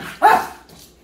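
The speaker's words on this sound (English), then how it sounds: "Get that dog, Lucy." A dog, a female, gives a single sharp bark during play, close and loud, followed by a fading tail of softer noise.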